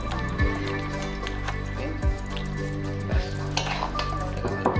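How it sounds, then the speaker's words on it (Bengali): Cauliflower, cabbage, carrot, peas and fried nuts being stir-fried in a wok, with steady sizzling and repeated scraping, clinking stirs against the pan, close and continuous, no talking. "এবারে সবজিগুলো ভাজে, ফুলকপি, বাঁধাকপি, গাজর"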